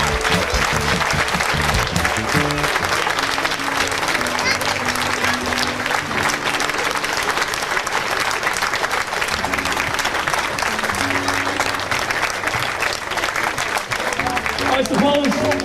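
Steady, loud applause from an audience at a repatriation trust fundraiser in Cavan, continuous for about fifteen seconds, with music playing and voices underneath the clapping.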